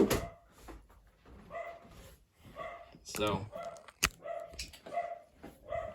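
A pet dog barks repeatedly indoors at home, the sharp barks mixed in with someone talking close by while he sets up retro video games.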